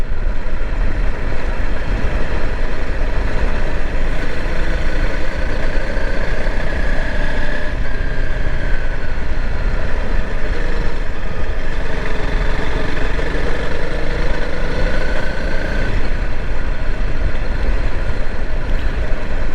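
Honda CRF 300L Rally motorcycle engine droning steadily while riding out on Bald Hills Road, a continuous loud mechanical hum mixed with wind rush and no pauses.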